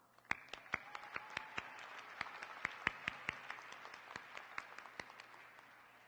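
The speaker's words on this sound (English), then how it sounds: "Please join me in a round of applause." A commencement ceremony audience gives a round of applause, a continuous wash of clapping with distinct sharp claps popping out regularly across the whole stretch, moderately distant and steady.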